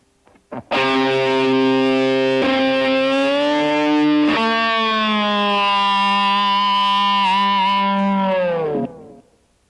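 Heavily distorted electric guitar holds a sustained, siren-like tapped note that shifts pitch in whammy bar bends and slides, ending with a downward dive, loud and alone.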